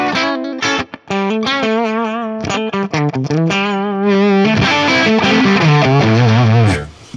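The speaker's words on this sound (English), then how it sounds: "this is what the JTM45 ended up sounding like when we dialed it in" Electric guitar through an Axe-Fx III Marshall JTM45 amp model, dialed in, with mildly driven sustained chords and single notes ringing loudly and alone, a brief gap near the start and a fade at the end.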